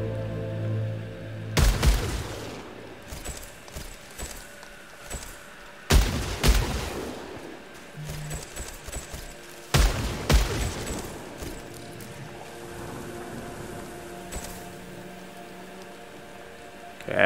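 In the game Returnal, a weapon's alternate fire mode goes off in three sharp, heavy blasts spaced a few seconds apart, each with a booming burst and a decaying tail, with quieter sci-fi ambience in between.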